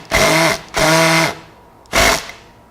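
A power drill drives a screw and strips it, giving three loud whirring bursts of the motor, each slowing with a falling pitch, the last one shorter, with nothing else heard between them.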